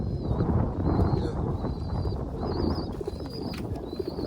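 Pigeons cooing close by in a pigeon-keeping setting, soft repeated coos over low rumbling background noise with a few higher chirps, no clear talk.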